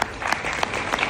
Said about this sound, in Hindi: पथरी निकल गई भाई, तालियां बजा दो।